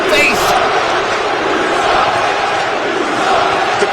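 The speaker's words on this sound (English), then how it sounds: "The crowd absolutely giving Andrews hell for what he's doing." Loud, dense crowd roar from a WWE 2K wrestling video game match, a steady wash of jeering arena noise filling the whole stretch without letup.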